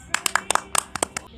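A classroom of children clap their hands together, a burst of sharp, loose, uneven claps close by for a second or so, with voices faintly mixed in.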